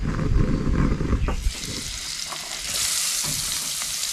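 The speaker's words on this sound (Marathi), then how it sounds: "मिरची आणि लसूण तेलात आपल्याला असं जरा भाजून घ्यायचं आहे" Chili, ginger and garlic sizzle loudly in hot oil in a kadhai, with occasional stirring scrapes and a steady, bright frying hiss.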